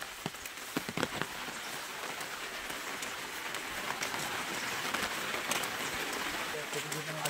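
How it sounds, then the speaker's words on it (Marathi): Heavy rain falls steadily near a river bridge in rural Konkan, a dense hiss with scattered sharper drop hits. "पाऊस पण खतरनाक आला आता"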